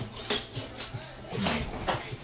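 Pots, pans and cutlery clatter and clink in a home kitchen during cooking of salt and chili chicken, scattered knocks and metallic rattles at moderate distance, fairly quiet.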